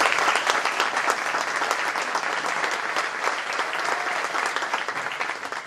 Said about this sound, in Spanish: a quien pido un aplauso al maestro Abdul Farfán